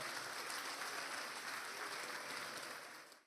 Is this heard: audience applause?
yes